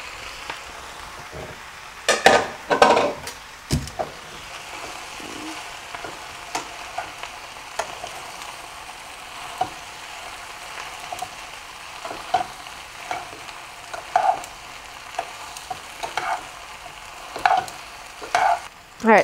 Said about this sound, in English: the tomatoes will make a really, really big sizzling noise because all of their water is gonna be hitting the hot pan